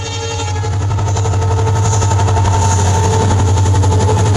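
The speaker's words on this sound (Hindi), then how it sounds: "रेल पटरी पर से गुजरते हुए जो ये आवाज़ आ रही है उसे ध्यान से सुनिए" A train rolls steadily over railway track with a loud, continuous rumble and a faint, regular rhythmic clatter throughout, and no voices.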